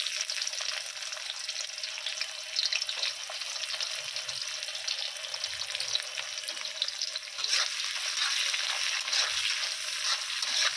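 Chopped onion fries in hot oil with garam masala and bay leaf, giving a dense, continuous crackling sizzle close by, with occasional stirring.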